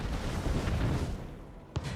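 Cannon towers and warships exchange fire in an Anno 1800 naval battle, a dense continuous rumble of booms with a sharper blast near the end.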